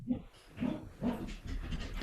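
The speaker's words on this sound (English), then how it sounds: "My dog's barking too now." A dog barks a few times somewhere nearby, short muffled bursts spaced about half a second apart over faint background noise, with no one talking.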